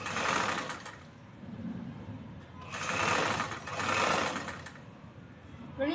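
A sewing machine runs in two separate bursts as it stitches a blouse neck cloth and cross-piece strip together, close and fairly steady, with pauses in between.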